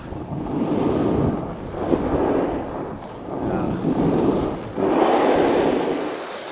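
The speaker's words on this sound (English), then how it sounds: "It's so windy" Strong wind on a ski mountain at Keystone, Colorado roars and buffets the microphone in steady gusts, a low rumbling rush that swells and eases for several seconds with no voices.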